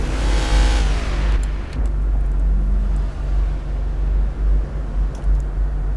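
E60 BMW M5 in City Car Driving stalling: a loud engine rev drops off abruptly after about a second, leaving a low idling rumble and whir that continues steadily.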